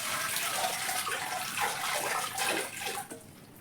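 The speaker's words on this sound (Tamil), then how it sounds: "இப்போ நம்ம தண்ணி ஊற்றிக்கலாம்." Water pours steadily into a Shantha wet grinder in a continuous hissing gush that tapers off near the end, close and fairly loud, with no talking.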